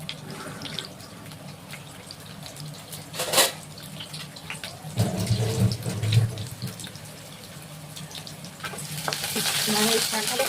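Whole garlic cloves and dried chilli fry in oil in a wok, a loud hissing sizzle with scraping stirs and clattering, swelling louder in the second half.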